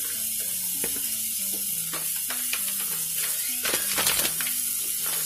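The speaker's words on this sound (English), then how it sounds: "you can probably hear my meat cooking" Meat sizzles as it cooks in a pan, a steady frying hiss broken by scraping, clicking stirs and faint ringing kitchen tones.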